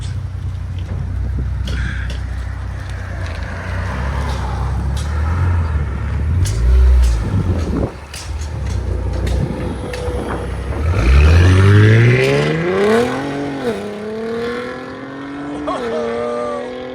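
A 2023 Ford Explorer ST 3.0L EcoBoost V6 exhaust with downpipes rumbles at idle, then revs hard with rising and falling pitch sweeps, loud and close, with some voices in the background.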